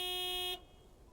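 A truck horn in the video game Lake gives a single steady honk that cuts off abruptly after about half a second, leaving near silence.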